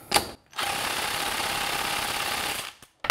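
A Harbor Freight impact driver hammers against a bolt torqued to 60 foot-pounds, a short burst first, then a sustained rattling impact run of about two seconds, close and loud, then a brief final burst.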